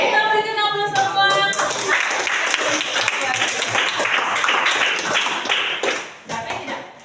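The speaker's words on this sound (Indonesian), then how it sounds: "Kita berikan aplaus semua." An audience bursts into loud, sustained applause for a classroom teaching session, dense clapping filling the room for several seconds before tapering off.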